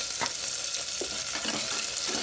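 Steady loud sizzling of onions frying in a pan, with a few brief stirring scrapes over the continuous hiss.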